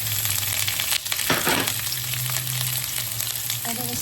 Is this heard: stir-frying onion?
yes